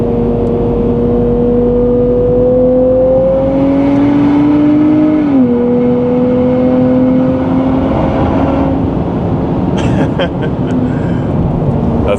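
Engine of a 2023 Nissan Z with automatic transmission, heard from inside during a ride-along: a loud steady drone that climbs in pitch, drops sharply at a downshift, then sustains and fades under road noise, with brief clicks near the end.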